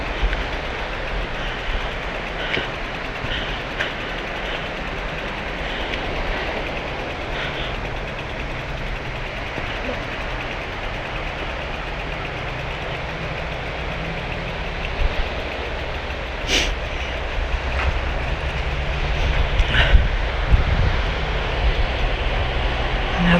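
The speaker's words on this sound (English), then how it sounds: "train." A train rolls by on the coastal railway line at Dawlish in South Devon with a steady rumble and hum throughout, growing slightly louder near the end.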